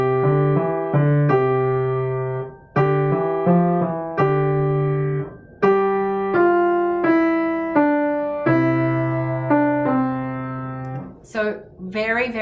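Keyboard notes play a simple graded sight-reading rhythm exercise, short and sustained tones in clear measured groups with brief pauses between phrases, close and moderately loud and alone until a faint noise at the end.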